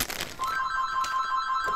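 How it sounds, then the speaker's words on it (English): A home landline telephone gives a brief electronic ring, a bright warbling tone that starts after a short moment and carries on steadily, heard alone in a quiet room. "That's the phone, the home phone for my mom."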